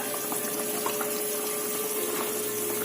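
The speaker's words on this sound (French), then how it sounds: "Notre sauce est déjà en train de bouillir." A pot of peanut sauce with smoked chicken at a boil gives a dense, steady bubbling and hissing wash with a faint constant tone underneath, unbroken and close, with no speech.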